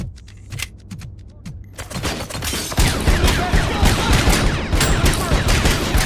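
Gunfire from a video game gun: sparse clicks at first, then dense, rapid automatic shots rattling continuously at close range, loud and unbroken to the end.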